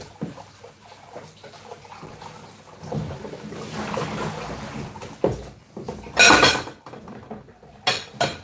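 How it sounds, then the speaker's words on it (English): Meatballs in a pot pulled from the oven and stirred, with soft scraping and shuffling, a sharp metallic clank of the pot partway through, then a few more knocks at the end. "We're going to take it out of the oven, yeah, every 20 minutes and give it a stir"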